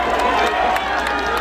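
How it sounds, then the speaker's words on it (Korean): A crowd at an outdoor Korean political rally applauds and cheers to welcome a party leader, producing a steady, loud wash of clapping and shouting with scattered sharper claps. "여러분 박수 많이 보내주세요."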